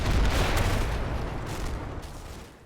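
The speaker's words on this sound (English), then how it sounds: "The squad assembles under covering fire" Gunfire in the Combat Mission wargame as an infantry squad gathers under covering fire: a dense, rumbling barrage of overlapping shots and booms that slowly fades out.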